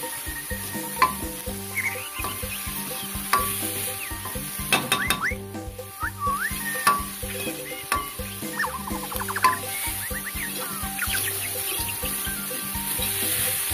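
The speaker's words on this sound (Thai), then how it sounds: "ก็เอามาผัดครับ ใส่เครื่องปรุงทั้งหมดที่มีครับ" Frog pieces stir-frying in a pan with curry paste, roasted dried chilies and seasonings, a steady close sizzle with scattered scraping and stirring under background music.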